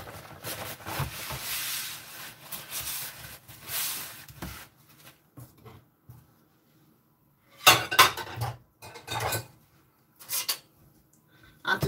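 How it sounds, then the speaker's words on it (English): A freshly made pulpy juice drink is strained through a strainer in a kitchen: intermittent clinks and clatter of metal and dishes with a soft hiss between, close by. "And to strain it out, I'm using this kind of strainer because I would like to have some of the pulp inside the juice."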